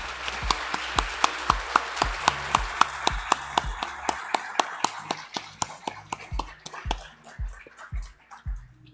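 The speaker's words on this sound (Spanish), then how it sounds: "Yo creo que se merecen un excelente aplauso." Applause at a talk on new kinds of fraud comes through as a few close, sharp claps in a steady, regular rhythm, fairly quiet overall, thinning and slowing slightly toward the end.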